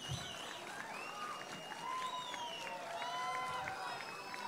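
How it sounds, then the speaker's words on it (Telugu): Audience applause welcoming Chief Minister Nara Chandrababu Naidu at an International Disabled People's Day event, a steady wash of crowd clapping with high whistle-like cheers threaded through it. "ఒక్క రౌండ్ చప్పట్లు గట్టిగా"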